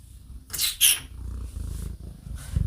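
A house cat gives a couple of short, close meows in quick succession, followed by quieter faint sounds in a small room.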